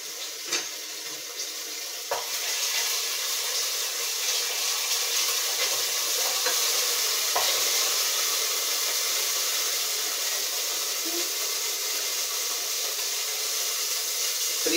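Food sizzles steadily in a hot pan while pasta sauce is being made, a constant frying hiss with occasional soft clicks and scrapes of stirring, close and continuous.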